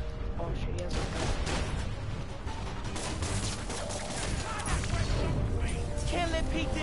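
Enemy gunfire in the Spider-Man Miles Morales video game, a dense, continuous barrage of shots and impacts mixed with crashing game effects and a voice speaking over it throughout.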